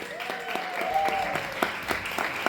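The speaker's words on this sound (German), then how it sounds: "Also macht einen mega großen Applaus für den Diego!" An audience at a comedy show applauds the comedian, moderate clapping with distinct individual claps popping through and a faint tonal whistle running beneath.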